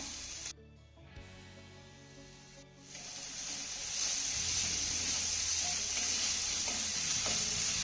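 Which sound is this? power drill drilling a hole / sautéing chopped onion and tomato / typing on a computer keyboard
sautéing chopped onion and tomato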